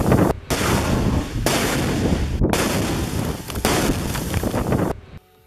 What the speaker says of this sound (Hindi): एक लड़ाका रिमोट कंट्रोल के जरिए इन रॉकेट्स को आईडीएफ की तरफ ताबड़तोड़ तरीके से फायर कर देता है।